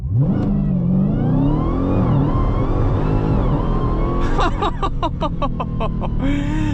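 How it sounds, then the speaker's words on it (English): A Dodge Challenger Demon 170 launches from 0 to 60, its engine roaring loud and close with rising pitch through quick gear changes, then a burst of rapid popping and crackling as the run ends. "0 to 60 in the Demon 170."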